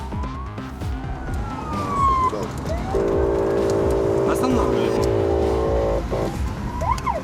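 Emergency vehicle sirens from ambulances and police cars with flashing lights on city streets in Dnipro, a steady wailing tone rising over heavy car traffic noise, with people talking throughout.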